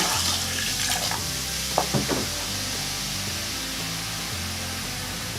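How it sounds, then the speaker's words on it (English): A steady rushing, gurgling hiss of vinegar and baking soda bubbling down a bathroom sink drain, with a couple of brief sharp knocks partway through, close and continuous. "You can hear it bubbling down the drain nicely."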